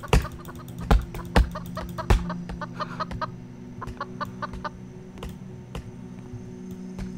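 Roblox Lumber Tycoon 2 chickens cluck in short, scattered bursts over a steady low hum, with a few sharp clicks early on.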